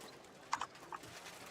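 Horse hooves in a video game, a few soft, quick clip-clop taps in two brief clusters, faint and close, with nothing else around them.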